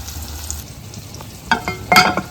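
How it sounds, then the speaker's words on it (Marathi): Cumin seeds roasting in a pan for a home-cooked dish, a low steady sizzle with sharper crackles and stirring scrapes near the end, close and moderately loud, with no talking. "तर मी हा जिरा पण थोडासा भाजते"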